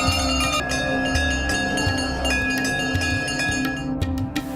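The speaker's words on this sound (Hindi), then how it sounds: "घंटियां बजाकर यहाँ हर कोई माँ को अपनी कामना बताता है" Devotees ring temple bells at the Tripura Sundari Mata shrine: dense, loud metallic ringing with overlapping strikes and sustained clanging tones that carry on continuously throughout.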